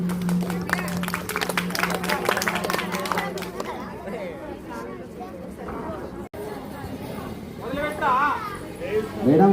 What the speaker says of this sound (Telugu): మా పూడూరు గవర్నమెంట్ స్కూల్ విద్యార్థులందరికీ క్లాప్స్